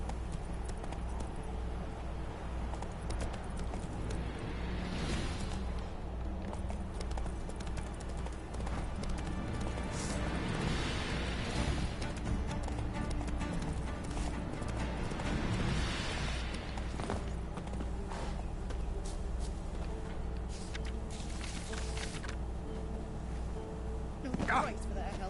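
Geralt's horse Roach gallops in the video game The Witcher 3, steady drumming hoofbeats running the whole stretch under game ambience, with voices speaking intermittently over the ride.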